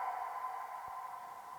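Pitched-up vocal "woo" hit with reverb for a pop production: a single high sustained tone trailing into a long, smooth tail, soft and alone.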